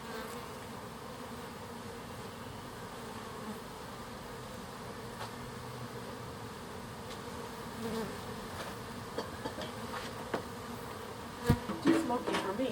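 Honey bees buzzing steadily around an opened beehive during a September inspection, a dense continuous drone close by with a few sharper knocks and handling bumps near the end.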